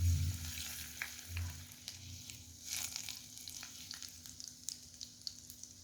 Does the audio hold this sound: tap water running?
no